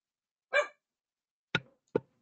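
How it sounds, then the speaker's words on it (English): A dog barks in a quiet room, three short separate barks, the first a little longer and the last two clipped and sharper, close and moderately loud with silence between them. "mute myself so you can't hear my dog barking"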